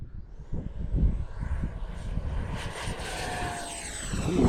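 Freewing F-5N 80mm electric ducted fan RC jet on its maiden flight, taking off from a runway with a rising whine and steady rushing roar that grows louder toward the end.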